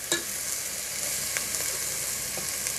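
Onion fries in a little oil with sugar in a pan, giving a steady, close sizzling hiss with faint crackles throughout.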